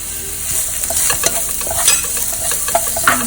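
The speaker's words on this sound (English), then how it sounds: "I'm going to add the onions now." Onions tipped into a pan of lightly oiled garlic hiss and sizzle while a spatula stirs and scrapes them, with sharp clicks of the utensil standing out over the steady frying noise.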